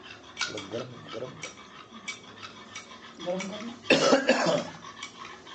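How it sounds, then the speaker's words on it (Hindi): A few short coughs close by, mixed with clinking of dishes and cutlery, with a voice talking in the background. "आपको खांसी हो रही? हाँ, हल्की है।"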